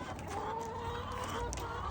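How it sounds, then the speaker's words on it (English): Backyard chickens cluck softly and steadily near a coop, low murmuring calls repeating over a constant outdoor background with no talking. "all you can hear is my chickens"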